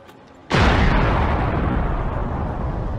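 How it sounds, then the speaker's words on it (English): A sudden loud blast erupts after a brief quiet moment, followed by a long rumbling roar that slowly fades. "Suddenly, there was a loud explosion."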